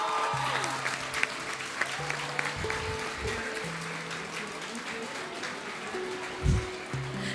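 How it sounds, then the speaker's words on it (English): Audience applause at an entrepreneurship conclave held at a hospitality school, a steady wash of clapping over low background music with a couple of brief thumps, continuous and moderately loud. "Huge round of applause."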